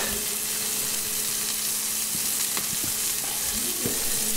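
Veal for saltimbocca sears in a hot pan during an Italian cooking class, a steady, dense sizzle running throughout with a few sharp clicks of a utensil against the pan near the end.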